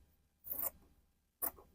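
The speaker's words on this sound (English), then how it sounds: "so trim 1 inch out like this and cut it out" Two short crisp scissor snips through fabric for a milkmaid dress bodice, close and fairly quiet with a pause between cuts.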